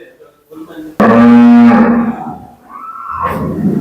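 A loud, close moo from a dairy cow at a cattle sale rings out for about a second and a half, with fainter animal sounds and background noise around it.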